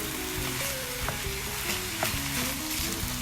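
Ground beef and pork browning in a pot for a ragù, a steady close sizzle and crackle of frying meat with occasional scraping stirs, no talking.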